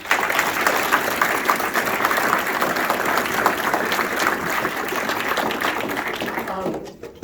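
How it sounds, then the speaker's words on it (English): Crowd at a 3M retirement gathering applauding the retiree's supporters, a dense, sustained wash of many hands clapping at steady volume before cutting off abruptly near the end. "give a round of applause to you for all the support that you've enabled her"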